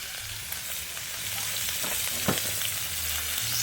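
Onions frying in hot cooking oil at a rural farm home, a steady close sizzle with soft stirring scrapes and no talking.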